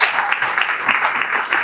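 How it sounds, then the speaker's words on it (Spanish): A church congregation breaks into applause for the Lord, a dense wash of clapping heard close and loud through the whole moment. "Denle un fuerte aplauso a nuestro Señor"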